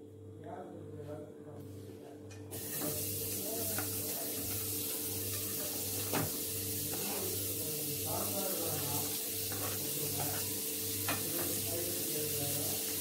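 Chopped onion sizzles in butter in a pan, a steady frying hiss with light scraping and clinks, starting softly then filling in after a couple of seconds.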